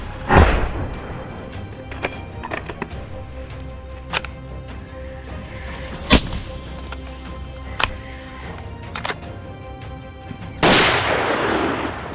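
Gunshots from a hunter's gun aimed at a charging wild boar of about 200 pounds: several sharp, loud cracks spread out at irregular intervals over a constant outdoor rumble, ending in a burst of noisy rushing.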